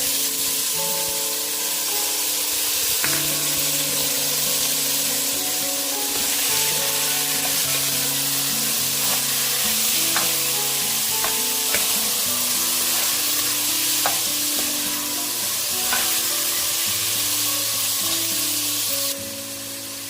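Soaked pulses tossed into vegetables frying in a pan, with a steady loud sizzle running throughout and brief stirring scrapes on top, while steady instrumental music plays alongside.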